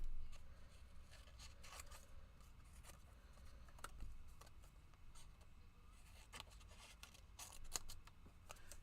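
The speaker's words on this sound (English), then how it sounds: "Get our fussy cutting scissors." Small fussy cutting scissors snip through paper in quick, quiet, irregular cuts at close range, with faint rustling of the paper between snips.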